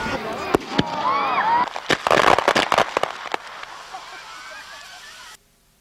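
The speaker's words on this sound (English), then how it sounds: "accompanied by a spectacular fireworks display" A Christmas fireworks display arrives with Santa Claus: sharp bursts and crackling pops come in a quick cluster, with whistling streaks rising over them. Voices murmur underneath before the sound cuts off.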